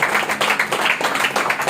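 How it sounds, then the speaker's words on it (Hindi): Steady, continuous clapping fills the space as a church congregation applauds during a Hindi Sunday sermon. The many hands are fairly loud and close, with a dense, rhythmic texture and no clear speech on top. "अगर तालियां बजानी तो परमेश्वर के लिए ऊंचे से"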